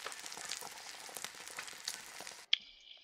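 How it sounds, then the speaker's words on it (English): In Minecraft Bedrock with a furniture mod, an egg sizzles in a pan as a soft crackling fry that runs steadily, then cuts off abruptly, followed by a short chime and a faint tone. "actually place it down here and you can cook the egg, which also has the sound and everything"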